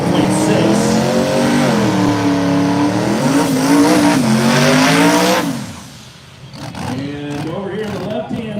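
At a no-prep drag strip, a Ford Mustang with a 4.6 engine and other race cars rev loudly with rising and falling engine howls, then drop off briefly before revving resumes, while an announcer talks over the noise.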